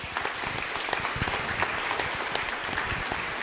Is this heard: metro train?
no